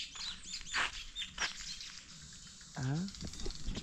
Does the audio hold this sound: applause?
no